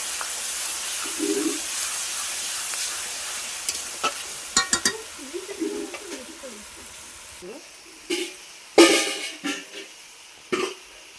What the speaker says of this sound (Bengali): দিয়ে দেবো রসুন বাটা, দিয়ে ভালো করে ভেজে নেবো।